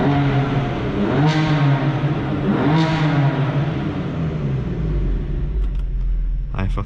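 A 600 hp BMW M4 F82 with a G-Power exhaust and downpipes revs hard, its loud engine note climbing in two sharp rising sweeps before dropping back to a deep, rumbling drone close by.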